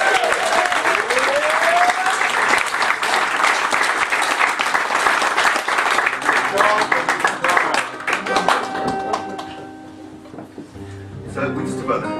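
Audience applause and clapping at an intimate sofa-session folk concert, loud and sustained for several seconds before fading, with a few plucked instrument notes and tuning sounds appearing near the end.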